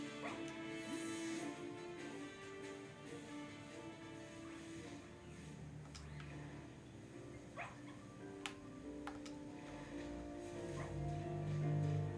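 Dog-type Pokémon cries in Pokémon Violet, a run of short yips, whimpers and bow-wow calls over steady game music, fairly faint and continuous.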